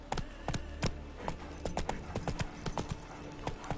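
Hooves of Roach, the horse in the video game The Witcher 3, pound out a fast, uneven galloping rhythm of sharp, close clip-clops.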